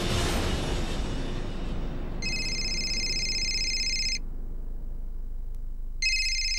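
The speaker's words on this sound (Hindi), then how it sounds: "नीतू का फोन है" A mobile phone rings in two bursts of a bright electronic ringtone over a steady low background hum, with a pause between the rings and no talking.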